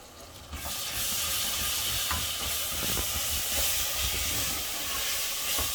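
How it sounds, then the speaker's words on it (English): Ginger garlic paste hits browned onions in a hot pan with a sudden burst of steady, loud sizzling hiss that holds evenly for several seconds, with no voices. "So I'm going to add 4 tablespoons of ginger garlic paste"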